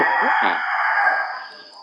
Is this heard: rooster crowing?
yes